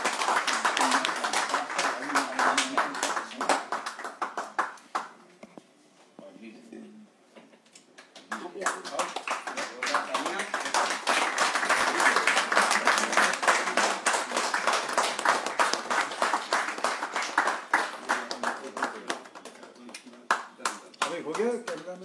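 Audience applause at a Hindi book launch ceremony, a dense run of hand clapping that fills most of the span, dips briefly near the middle, then swells again with talk mixed in.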